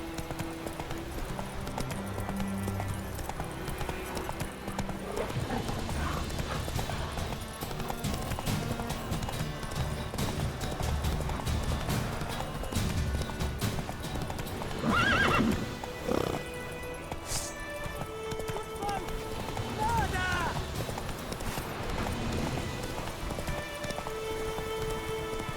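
Roach the horse galloping in The Witcher 3, a continuous fast clip-clop of hooves under a busy bed of game ambience, music and occasional rustling, steady throughout without pause.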